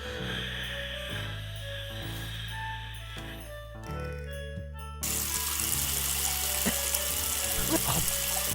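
Water gushes steadily from a faucet, a loud continuous rush that grows fuller and brighter partway through, with faint clinks underneath.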